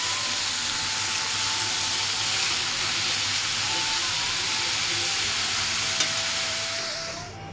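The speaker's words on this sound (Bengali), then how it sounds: "পেঁয়াজ দিয়ে কালো জিরা আর কাঁচা লঙ্কা, শুকনো লঙ্কা দিয়ে ভেজে নিয়েছি" Ridge gourd sizzles steadily in hot oil with onion, nigella seeds, and green and dried chilies, a continuous close frying hiss that holds even throughout and fades slightly at the very end, with no talking.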